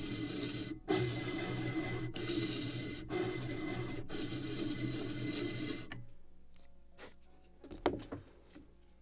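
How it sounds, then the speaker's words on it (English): Hand sanding wooden planks on a Gunboat Philadelphia model ship, steady rasping strokes broken by short pauses, then a few quieter scrapes and taps near the end. "Just a little more sanding here."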